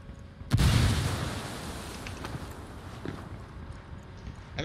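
A frag grenade detonates in the video game Ghost War: one sudden heavy boom with a low rumbling tail that fades over several seconds, followed by faint scattered gunfire.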